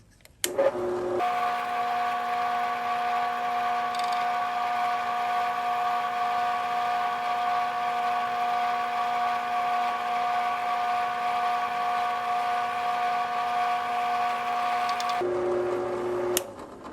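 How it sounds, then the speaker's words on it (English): A small drill whines at a steady pitch for about fourteen seconds while drilling into a .50 caliber brass cartridge held in a jeweler's block, starting and stopping abruptly, with no talking over it. "steady that for me as I drill down"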